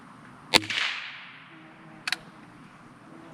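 Two percussion caps fire on a Lyman Great Plains .50 caliber muzzleloader rifle, sharp pops a little over a second apart, the first louder with a brief hissing tail, the second quicker and thinner, with no talking.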